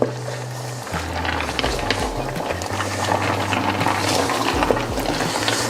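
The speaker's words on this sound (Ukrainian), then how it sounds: "Я його зараз перемішаю і зменшу вогонь для того, щоб страва тушкувалася." Chicken stewing with plenty of onions bubbles loudly in a pan and is stirred, giving a continuous close hiss and simmer with occasional scraping and low humming tones underneath.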